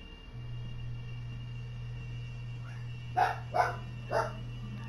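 Dogs bark in Resident Evil Village, three sharp barks in quick succession near the end over a steady low game hum, with no talking.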